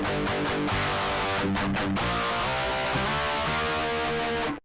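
Harsh, raw Boss DS-1 distortion running into a Fortin Grind with no cab impulse response, a sustained fizzy electric guitar riff playing loud and continuous with brief chopped pauses, no voices.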